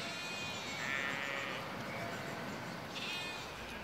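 Sheep bleating in a grassy meadow, two short bleats a couple of seconds apart over a steady outdoor background, moderately distant with no talk.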